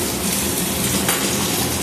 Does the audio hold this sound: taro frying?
yes